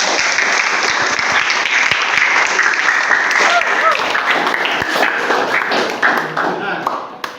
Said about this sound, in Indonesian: kasih tepuk tangan dulu buat teman-temannya